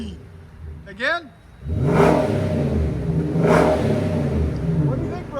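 A deep exhaust roars as a 2023 Infiniti QX80 5.6-litre V8 with Flowmaster Super 10 dual exhaust is revved twice in quick succession, loud and near, reaching about 105 decibels, after a short voice at the start.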